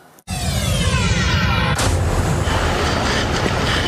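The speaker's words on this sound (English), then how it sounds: "a crash followed by an explosion and devastating fire" A loud explosion following a crash at an apartment building, a sudden deep blast that leaps out of near silence into a sustained roaring boom, with a second sharp burst about halfway through, no talking.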